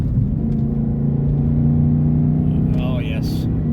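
A throaty V8 engine of a Porsche 955 Cayenne S rumbles steadily at high revs, loud and close from the cabin, with a brief higher whine and a voice near the end.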